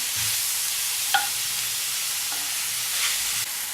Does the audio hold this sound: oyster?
yes